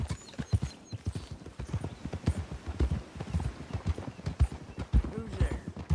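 Horse hooves gallop in a video game, a fast, busy clatter of close, loud beats that runs throughout, with a voice speaking over it and a faint whinny near the end.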